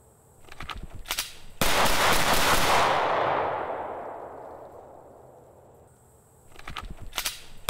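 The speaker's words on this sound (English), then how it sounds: "I'm gonna draw the pistol, rack a bullet into the chamber, and fire 5 shots as fast as I can" HK P30L pistol fired rapidly: a loud, sharp blast that rings out in a long, fading echo, with faint mechanical clicks before and after.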